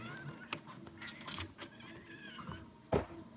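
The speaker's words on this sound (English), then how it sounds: "Down, kitty." Indoor house cat meowing softly amid faint clicks and rustles, with a brief, sharper mew near the end, all quiet and close.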